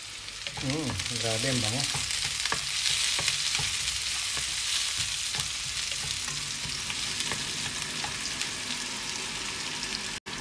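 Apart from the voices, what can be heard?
onion and garlic sautéing in olive oil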